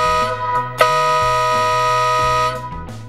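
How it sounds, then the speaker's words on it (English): A loud, sustained blast from a Wolo Bad Boy air horn on a Dodge Ram pickup, brassy and steady for about two seconds, after a brief short toot. "this Wolo Bad Boy air horn lets them know you're coming."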